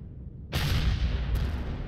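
Weapons fire against cannon turrets in the space game Empyrion, one sudden loud booming blast followed by a sustained rumbling roar and a second sharp crack, no talking.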